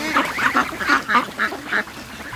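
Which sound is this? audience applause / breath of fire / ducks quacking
ducks quacking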